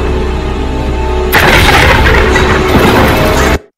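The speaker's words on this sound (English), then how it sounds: "Maria gets shot up!" Gunfire rings out in an animated Shadow the Hedgehog scene, a loud burst that swells into a dense, roaring blast over a low rumble and then cuts off abruptly.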